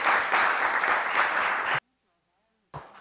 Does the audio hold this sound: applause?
yes